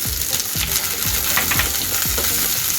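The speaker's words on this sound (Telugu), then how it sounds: "మరి ఇప్పుడు పసుపు వేస్తున్నాను ఇక్కడ" Oil sizzles steadily in a frying pan as turmeric is added for amaranth-leaf dal (thota koora pappu), with a few scraping, ratcheting stirs of a spatula across the pan surface throughout.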